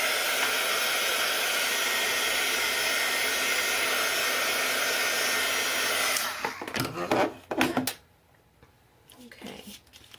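A heat tool blows a loud, steady, hissing roar for about six seconds while drying a craft tag, then it cuts out and leaves a few clattering handling noises and near quiet.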